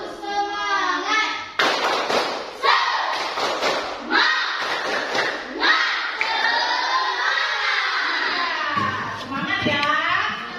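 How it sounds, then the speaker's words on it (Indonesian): Standing pupils in a classroom do a rhythmic cheer clap, with sharp group claps and thumps interspersed with children's shouting and chanting, plus a teacher's voice leading them. "Kita tepuk semangat."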